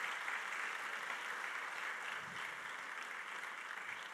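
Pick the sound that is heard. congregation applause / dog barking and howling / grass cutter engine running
congregation applause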